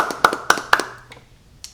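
Hands clap three times in a sharp, evenly spaced burst, followed by a couple of fainter taps and a last light clap after a short pause, close and clear with no talking.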